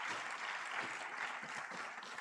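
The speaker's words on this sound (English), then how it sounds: "I think she deserves a huge round of applause" An audience at a diaspora summit claps in a dense, even burst of applause that stays steady and fairly distant throughout the short stretch.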